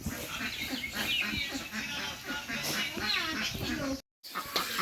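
Ducks quack repeatedly amid a busy outdoor scene, with people talking over them throughout.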